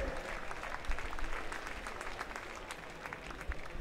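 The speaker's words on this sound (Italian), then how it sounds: "vorrei fare un applauso per questi due spettacolari atleti" An arena crowd at a Muay Thai fight gives the two fighters fairly quiet, continuous applause, with scattered individual claps and some crowd murmur underneath and a couple of low thumps.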